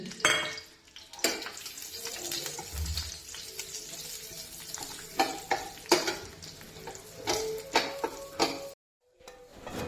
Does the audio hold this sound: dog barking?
no